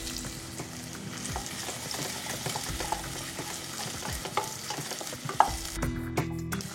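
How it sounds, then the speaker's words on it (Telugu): Long-sliced onions frying in ghee with bay leaf, cloves, cardamom and cinnamon, a low steady sizzle under frequent spatula stirring and scraping, with a few sharper knocks toward the end. "ఉల్లిపాయలు బ్రౌన్ కలర్ వచ్చే వరకు వేయించుకోవాలి."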